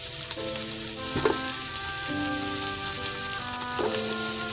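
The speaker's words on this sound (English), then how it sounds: "When you hear that sizzle, you just lower down the heat a little bit" Steady, crackling sizzle of onions frying in hot oil, loud and close, with faint tonal sounds in the background and no voices.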